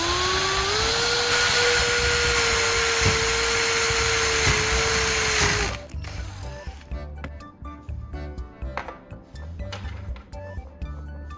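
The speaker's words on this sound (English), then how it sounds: "Drill slowly to avoid cracking plastic" A power drill boring holes in a plastic tube whines steadily at a rising pitch, then gives way to irregular clicks and rattling handling noises, fairly loud and with no talk.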